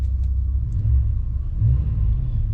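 The engine of a 2015 Ram 4WD truck, damaged in a hard rear hit, idles with a steady deep rumble and slight swells in pitch. It runs alone, close and even, with no voices.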